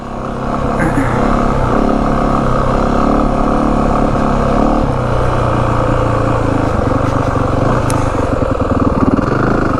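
A 2025 Yamaha WR 450F dirt bike engine running on its tamer blue map, a loud, close, continuous four-stroke drone with small rises and dips in revs across the whole stretch and no talking.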